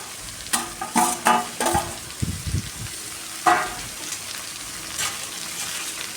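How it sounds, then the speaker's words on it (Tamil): Chopped ridge gourd being stir-fried in a pan, with a few scraping stirs and clattering spatula strokes over a low, steady sizzle, close and fairly quiet, with no talking. "இப்போ பீக்கிங்காய் குட்டி குட்டியாக கட் பண்ணி வச்சுருக்கேன், அதை எடுத்து போட்டுக்கலாம். நல்லா கிளறி விட்டுக்கணும்."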